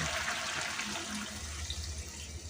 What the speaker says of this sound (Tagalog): So, lalagyan ko na siya ng tubig.